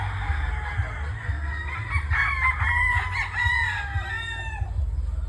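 A rooster on a game farm crows in one drawn-out call, near and clear, over a low steady background rumble.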